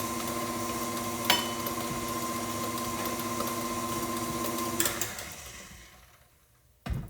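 An electric mixer whirs steadily while beating marble bundt cake batter, a constant motor drone with a tonal whine that winds down and stops near the end, followed by a brief clunk.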